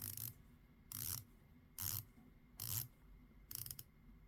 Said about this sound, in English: Right, bezel, 120 click, unidirectional, stainless steel. Really nice action.